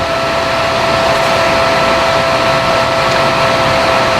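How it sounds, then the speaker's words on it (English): A modified PlayStation 3 cooling fan runs on high, a loud, constant airy whoosh with a steady tonal hum, unbroken and close. "just go straight with the fan running on high at all times"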